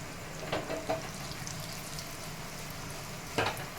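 Urad dal, chana dal, hing and dried chilli frying in hot oil, a soft continuous sizzle with a few light crackles and stirring clicks, quiet and close.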